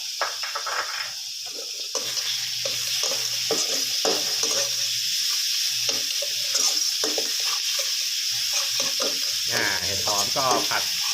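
Pounded coriander root, garlic, pepper and shiitake mushrooms stir-fry in a little oil, giving a steady sizzle broken by rhythmic scraping strokes of a spatula against the pan, close and clear.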